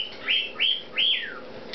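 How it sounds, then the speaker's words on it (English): Three shrill, rising squawks from young hand-fed hybrid macaws, three-quarter scarlet and one-quarter greenwing, close by and evenly spaced with no talking. "I have two hybrid macaws. There are 3/4 scarlet, 1/4 greenwing."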